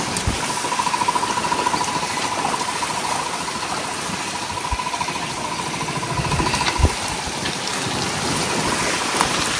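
A power tiller engine runs steadily in a rice field, giving a constant, loud, rough mechanical rumble with a faint steady hum and occasional louder knocks throughout.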